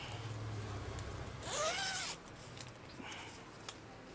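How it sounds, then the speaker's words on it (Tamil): A zipper pulled along a fabric mattress cover for an 8-inch bed mattress, one quick bright zip lasting under a second, surrounded by quiet room noise and no talk. "இப்படி உங்களுக்கு மேட்ரஸ் உள்ளே போயிடும் ஜிப்பில்."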